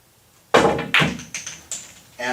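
A cue tip strikes the cue ball on a pool table for a stop shot: a sharp close tap followed by a few fainter clicks and knocks as the balls make contact and settle.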